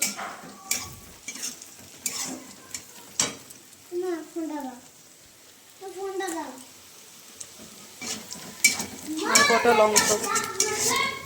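Mutton frying and being stirred in a pan, with scraping and sizzling bursts that come and go, the noise growing fuller toward the end, while voices talk over it.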